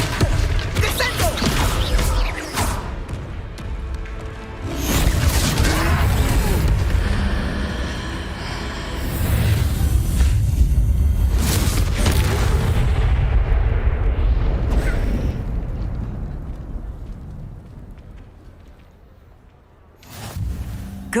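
Spell blasts, crashes and booming impacts as the Descendo spell hits a troll in the video game Hogwarts Legacy, loud and heavy, surging in waves before fading near the end, with little talk.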